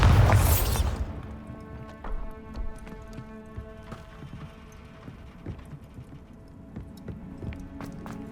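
Bombarda blast spell from Hogwarts Legacy: a loud burst opens the moment, then fades into a busy stretch of scattered impacts, rumbles and clattering hits from ongoing spell combat.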